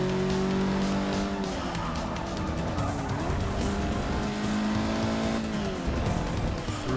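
A race car in Forza Motorsport 6 brakes and accelerates, its engine note dropping and climbing steadily over loud, continuous tire squeal and skidding, heard up close with faint speech in the background.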